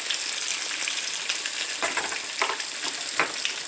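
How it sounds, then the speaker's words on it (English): Halibut fish fries in a pan with a loud, steady sizzle and fine crackling spatter throughout, close up, with no voices. "That fish cooking well."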